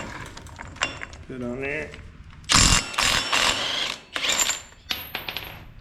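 A ratchet drives a 41mm socket on a SuperATV portal box of a RZR during a leaking seal replacement, giving a few loud bursts of clicking and clanking after a short spoken phrase.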